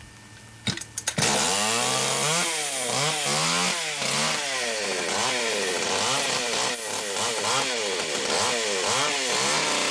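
A chainsaw rips to life after a few sharp starting pulls, then runs loud and close with repeated revving and throttle swells on an outdoor film shoot.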